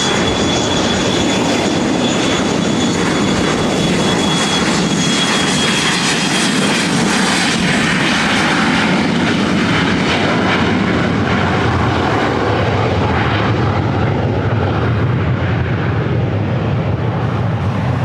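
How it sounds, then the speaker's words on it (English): Boeing 737-700 jet taking off from runway 24 right at LAX, a loud, continuous engine roar filling the whole stretch with no talk over it. "737-700 heading up here for a takeoff to SFO"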